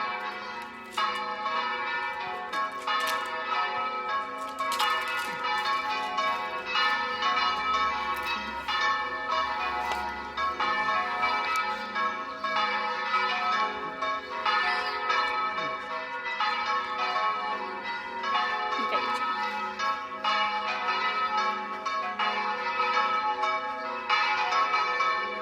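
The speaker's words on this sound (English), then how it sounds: "I'll shut up so you can listen to the bells." Church bells in Altea ring out at ten o'clock, a continuous layered peal of overlapping strikes that carries on steadily and loudly throughout.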